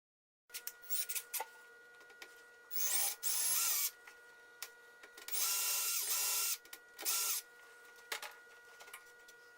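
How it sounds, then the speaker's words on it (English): Power drill boring out rivets on the third brake light of a 1995–2000 Ford Explorer, with repeated whirring bursts of varying length, some brief and some sustained, separated by short pauses and close to the listener. "Now, drill out and remove all 7 rivets."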